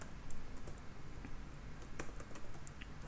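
Quiet bursts of keystrokes on a computer keyboard while someone writes Laravel PHP code, soft irregular clicks close by with no talking.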